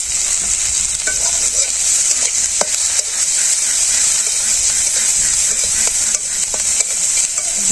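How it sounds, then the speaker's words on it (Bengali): Chopped onions and chilies are stir-fried in a pan for a Bangladeshi village-style tilapia curry, a loud, close, hissing sizzle punctuated by scraping stirs and occasional clinks. "পেঁয়াজ মরিচটা আমার কষানো হয়ে গেছে"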